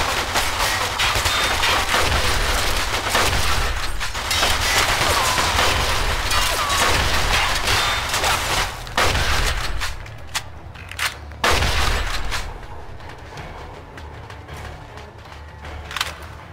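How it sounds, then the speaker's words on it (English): Gunfire from the Mafia II video game on hard difficulty, a dense, loud barrage of rapid shots and bursts that runs without letup for most of the span, then thins into scattered louder cracks toward the end. "They shooting at me for Christ's sakes!"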